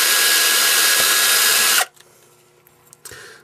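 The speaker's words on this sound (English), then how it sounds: "Now I'm ready to drill my holes, and I'm going to use a 1/16 of an inch bit to do it." A power drill with a 1/16 inch bit boring small burner holes for an ultra-light alcohol stove, one loud steady whine that cuts off abruptly, followed by faint handling noises and a brief restart at the end.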